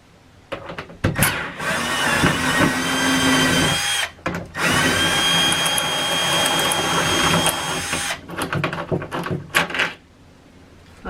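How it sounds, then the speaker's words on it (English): A power drill drives a large self-tapping screw into an RV bed frame, whirring loudly up close in several long bursts separated by short pauses, with clicks and rattles around them. "That's a big self-tapping screw."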